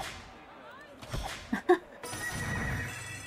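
A horse whinnies in the Big Bass Day at the Races slot game, a short high neigh followed by sharp whip-like cracks and a thump. The game's music and effects play underneath, with a brief human voice nearby.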